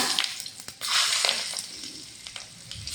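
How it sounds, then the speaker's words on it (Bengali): Cumin and dried chilies hit hot oil left from frying fish, giving a bright, steady sizzle with crackling spits and a sudden louder surge as the spices go in. "তো মাছ ভাজার তেলে জিরে, শুকনো লঙ্কা"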